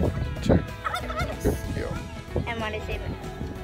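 A single homestead turkey gobbles in loud, rapid bursts up close, its warbling calls repeating in quick runs over a busy farmyard background.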